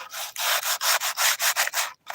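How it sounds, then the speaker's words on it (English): A handmade violin is sanded by hand in a steady series of about nine brisk strokes, each a loud, close, dry rasp with brief pauses between, the last stroke ending in silence. "we're going to do a little bit of sanding and touch up on the instrument here"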